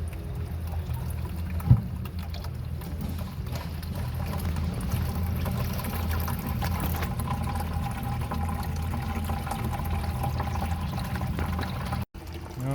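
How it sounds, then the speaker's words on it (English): Water from a hose flushes through a rusty Model A Ford radiator, a steady pouring and trickling rush under a low hum, with a brief knock early on and a short dropout near the end. "turn the water on. It's got to fill up the radiator."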